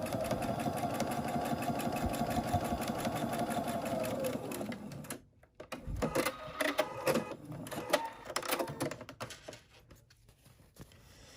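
A sewing machine stitches a baby's sun hat seam steadily for several seconds, then pauses and restarts in short, uneven bursts for back-stitching, heard close and alone.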